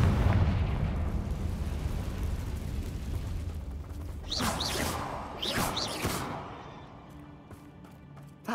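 A Confringo explosive spell blasts in the video game Hogwarts Legacy: a loud, booming burst with a rumbling roar, followed by a couple of sharp crackling impacts that fade out.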